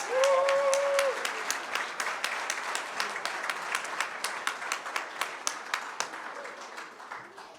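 A theatre audience at a Christmas special show claps loudly at first, then the applause thins into scattered, rhythmic clapping that keeps going steadily before fading out.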